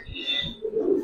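Giribaz pigeons of the Palla line cooing: a few soft, low murmuring coos close by, with faint chirpy calls and light rustling around them, no talk.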